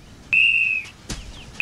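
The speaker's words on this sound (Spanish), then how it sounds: "Estoy tocando un silbato" One sharp, shrill whistle blast rings out for about half a second, close and loud, followed by a brief clatter and the start of another.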